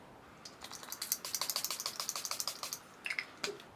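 A rapid run of small clicking and rattling bursts as a fixing spray can is shaken, then a couple of brief hissy spurts, close and fairly quiet.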